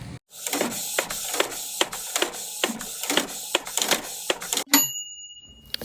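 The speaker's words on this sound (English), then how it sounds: "especially when printing something this large" A 3D printer lays down a large part, its stepper motors whining and buzzing in steady repeating passes with regular clicks, loud and close, before a brief high electronic tone near the end.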